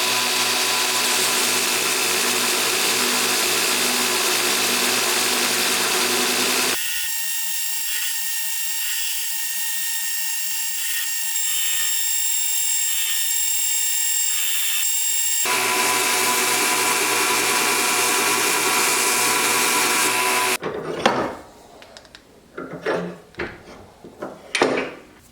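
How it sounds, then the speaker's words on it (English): Damascus steel for a chef knife is ground in a workshop, with a loud, steady abrasive hiss and a long whining motor stretch in the middle, followed by scattered knocks and scrapes at the end. "Grinding this stuff is ridiculous."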